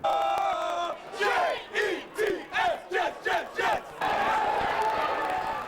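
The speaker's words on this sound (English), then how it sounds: "Nothing but chanting and cheering as the night began" New York Jets football fans in a stadium crowd chanting a rhythmic, repeated cry in pulsing bursts, with a sustained roar of cheering before and after, loud and near.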